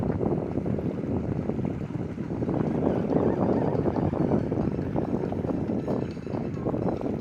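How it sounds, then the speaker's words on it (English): Low, rumbling engine drone of a large boat passing on the water at Ho Chi Minh City, Vietnam, steady throughout, mixed with wind buffeting the microphone. "Yeah, we got a big boat coming at us right now."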